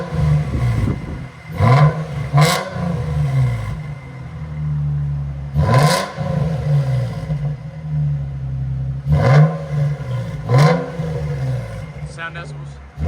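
A 2004 Nissan 350Z with a 3.5L V6 and SPEC-D tuning exhaust revving while parked, a loud rumbling idle broken by several sharp throttle blips in quick pairs, with voices talking between the revs.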